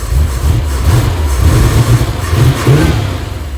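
The carbureted engine of a C4 Corvette revs close by, a loud, deep rumble that rises and falls in several quick blips over a steady idle, with no talking.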